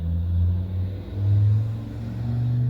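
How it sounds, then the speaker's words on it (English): A truck engine revs nearby in a forested home setting, with two or three low, rising surges of throaty rumble over a steady idle. "Cool truck."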